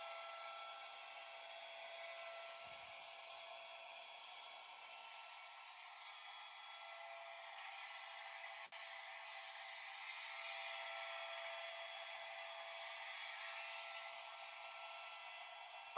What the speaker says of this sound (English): So I like to trim up between his eyes.